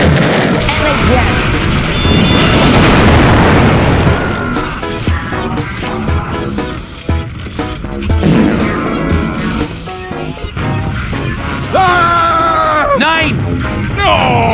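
Airstrike bombing explosions in Team Fortress 2 come as loud, dense blasts and rumbling booms, mixed with shouting voices and game chaos throughout.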